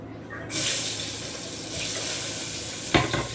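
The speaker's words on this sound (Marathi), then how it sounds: "त्यात कांदा टोमॅटो एकदाच टाकतं" Onion and tomato go into a hot tempering of mustard seeds and curry leaves, bursting into a loud, steady sizzle after a quiet start, with a brief clatter of utensils near the end.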